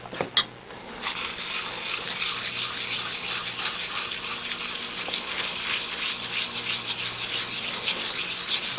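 Sharpening stone honing the cutting edges of a milling cutter during a Bridgeport mill rebuild, a steady close scraping and rubbing after a sharp initial tap.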